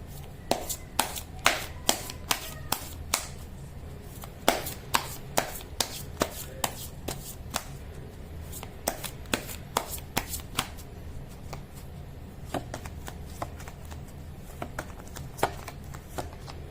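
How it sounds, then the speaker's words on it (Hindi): A deck of tarot cards is shuffled close by in a quiet room, with soft, rapid riffles and crisp taps repeating in irregular bursts, without talk. "मैं कर लेती हूँ कार्ड की शफलिंग।"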